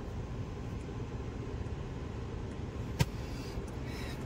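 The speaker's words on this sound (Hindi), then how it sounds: "अभी हमारे मैडम गाड़ी चला रही है" Inside a moving car driven through Mumbai, a steady low road and engine rumble fills the cabin, with one sharp brief click partway through and no talking.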